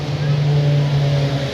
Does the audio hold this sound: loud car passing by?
yes